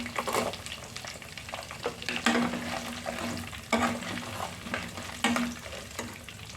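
Curry leaves and garlic crackle and sizzle in hot oil in a pan for tomato and red chilli pickle, a steady spitting fry broken by periodic louder scraping stirs, close up with no voices.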